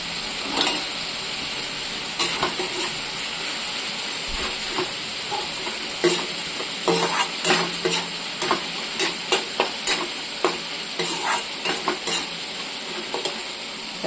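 Ground spices including Kashmiri chili powder, cumin and turmeric sizzle steadily in a hot pan while a spatula scrapes and stirs in repeated close knocks, with no talking.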